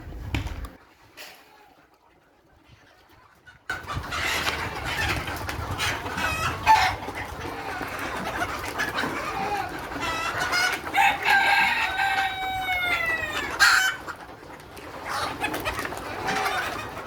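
Country chickens and roosters at a farm in Oman, loud nearby clucking and repeated rooster crowing over a busy background of other birds, with a quiet stretch before the flock noise begins.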